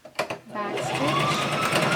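A sewing machine back-stitches a cloth face mask. A couple of short clicks come first, then the motor settles into a steady, close whirring run, with a voice heard over it.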